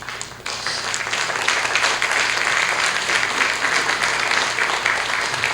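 Audience applause welcoming Doctor San Martín to a criminal procedure law seminar at the Pontificia Universidad Católica del Perú, a dense, steady roar of many hands clapping that swells after a brief softer start and holds throughout.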